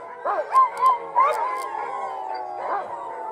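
Sled dogs in wintry Tromsø, Norway, howl and yip eagerly before a run, several rising wails in quick succession overlapping into a sustained chorus, close and fairly loud.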